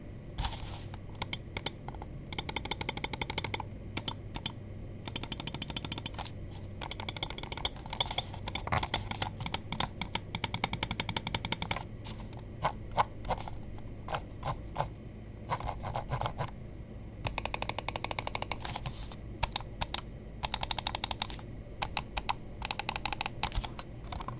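Rapid, crisp clicking in uneven bursts and pauses, close and fairly quiet, from an ATK X1 Pro gaming mouse being clicked repeatedly, with no voices.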